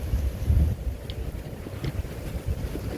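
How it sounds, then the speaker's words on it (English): Low, rumbling buffeting of wind hitting a microphone, steady and close throughout the few seconds, with no voices. "Very windy day today."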